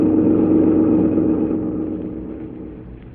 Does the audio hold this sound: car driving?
yes